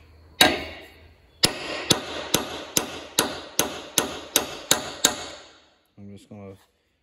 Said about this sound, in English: I've got a tapered punch.